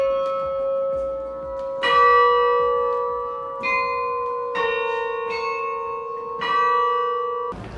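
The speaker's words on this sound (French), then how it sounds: "on a 42 cloches qui sonnent toutes les 15 minutes" Several large carillon bells in a belfry in northern France ring in overlapping, staggered strikes, each tone sustaining and blending into a rich, resonant chime with no voices.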